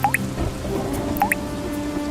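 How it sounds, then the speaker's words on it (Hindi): Rainwater leaks through a hut roof during a heavy downpour, two distinct close drips landing about a second apart over a steady background hiss. "पूरी छत से पानी टपक रहा है।"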